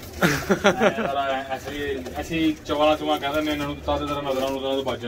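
Pigeons coo in low, throaty, repeated calls throughout, close and steady, with people talking over them.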